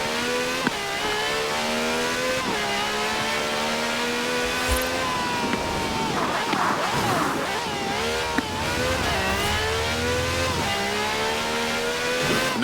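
V12 taxi cab with over 750 horsepower in the racing game Forza Horizon 4, engine loud and close, revving and shifting through repeated rising gear pulls with brief tire squeal, alone without talk.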